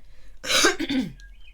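A single harsh cough, close and brief, with a rough raspy burst followed by a quieter throaty tail.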